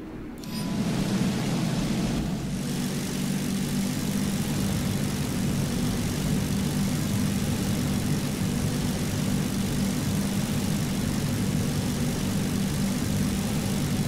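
A bomber's propeller engines in the War Thunder video game give a steady, loud, low droning roar that fades in at the start and then holds constant throughout, with no talking.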